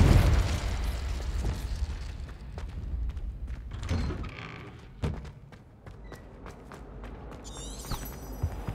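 Confringo spell blasts in Hogwarts Legacy, a heavy booming explosion at the start followed by scattered thuds, pops and crackling debris, with a second smaller burst midway and a faint sparkling shimmer near the end.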